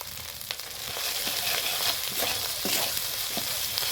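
Onion, garlic, turmeric and salt frying together in a pan for a simple chicken curry, giving a steady close sizzle with scattered sharp crackles and light scraping of stirring.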